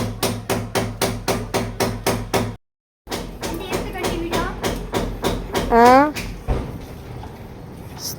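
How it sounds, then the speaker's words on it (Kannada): A hammer drives a nail with about a dozen evenly spaced, sharp, loud blows in a steady rhythm, then stops abruptly, followed by people talking indoors. "ಇನ್ನೂ ಹೊಡಿತಾ ಇದ್ದಾನೆ ಮೊಳೆ"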